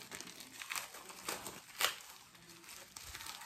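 Small plastic packaging for a transparent keyboard protector crinkles and crackles as it is handled and opened, close and fairly quiet, in irregular bursts with one sharper crackle.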